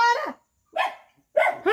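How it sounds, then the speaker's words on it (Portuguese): A dog barks in three loud, close bursts separated by short pauses, the last two coming in quick succession, with no voices heard. "O que é outro cachorro"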